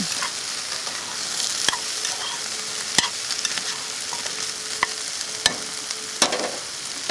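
Courgettes sweat in a hot pan with a constant close sizzle and crackle, punctuated by sharp clicks and taps of a utensil against the pan, with no voices.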